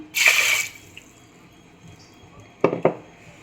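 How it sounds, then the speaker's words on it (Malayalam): A short splash of water is poured into a metal pressure cooker, followed by quiet stillness and a couple of faint clinks near the end. "ഒരു സ്വല്പം കൂടെ നമുക്ക് വെള്ളം ഒഴിച്ചു കൊടുക്കാം"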